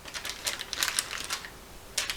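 Parchment paper handled and crinkled during acrylic paint work with metallic paints, giving short, crisp rustling bursts that rise and fall, loudest near the middle and again at the end, with no talking.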